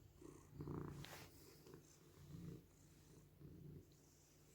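A cat purring close by in a garden, a low rumbling purr in several swelling bursts with brief pauses, faint outdoor background behind it.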